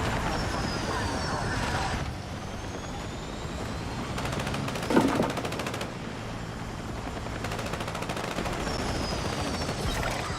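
Video game gunfire crackles in rapid automatic bursts, a short volley early, a single loud burst near the middle and a longer stretch of firing later, over a constant background of game noise.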